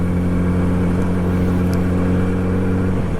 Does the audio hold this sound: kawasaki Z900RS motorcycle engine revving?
yes